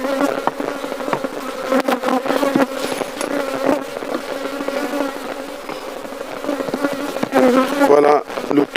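Bees drone in a steady, dense buzz while a honey beehive is being closed during a harvest in Agboville, Côte d'Ivoire. The hum runs continuously and fairly loud, with a few faint knocks near the end.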